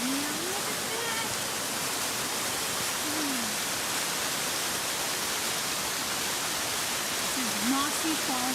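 Waterfall on Mossy Falls Brook along New Hampshire's Mt Kinsman Trail pours in a constant, close, full roar, while a voice talks briefly over the rush of water now and then.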